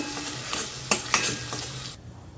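Masala paste for a dhaba-style mushroom and cashew curry frying in oil while being stirred, a soft sizzle with a few scraping strokes of the spoon, cutting off near the end.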